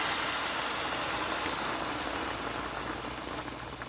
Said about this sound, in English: I will cover this with my hot boiling water.